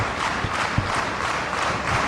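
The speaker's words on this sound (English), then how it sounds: "The crowd right now getting behind the Messiah." A wrestling crowd at a CZW match in 2002 roars and claps in a dense, steady wash of noise, with a few sharper claps and thuds breaking through for about two seconds.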